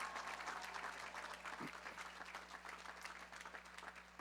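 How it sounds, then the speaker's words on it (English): An audience at a college commencement applauds for members of the armed forces, a dense, sustained patter of many hands, faint and distant with a low steady hum beneath it. "Let's have a round of applause for them as well."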